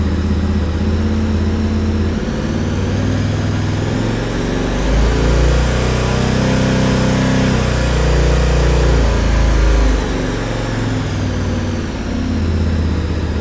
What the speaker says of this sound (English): And here we go, raising the RPM,